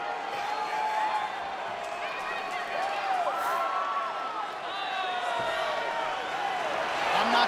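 Arena crowd din in the UFC 5 video game set at the Bell Centre in Montreal, a dense roar of cheering with whistles and shouts, steady and moderately loud throughout.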